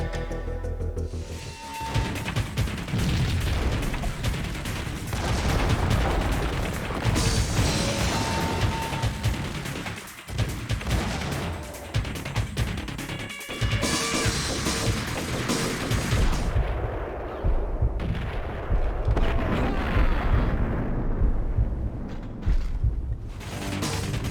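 Gunfire and explosive booms in the video game Max Payne, loud and dense throughout with mechanical clanks and creaks mixed in, forming a continuous barrage of shots and impacts.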